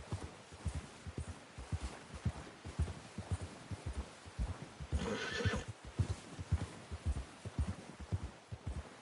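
A horse in Red Dead Redemption 2 trots with a steady, rhythmic clip-clop of hooves throughout and gives one clear whinny midway, with nobody speaking.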